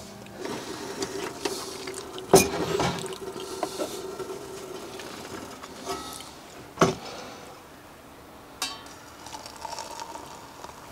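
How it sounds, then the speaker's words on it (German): Water runs from a tap into a container while camping, a quiet steady trickle broken by a few sharp clunks and knocks. "warum ich das Wasser einfach aus dem Wasserhahn genommen habe"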